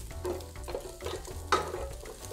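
Bacon frying in its own rendered fat in a pan, with soft crackling sizzle, occasional stirring scrapes and one sharper clink, heard close and with no talking.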